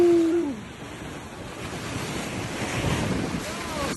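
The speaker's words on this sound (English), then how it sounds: "I was trying to record, but then the water splashed on me" Ocean surf crashing and splashing at the Vasco da Gama pillar, a loud steady wash of waves mixed with heavy wind buffeting the microphone, with a brief tonal whine at the start.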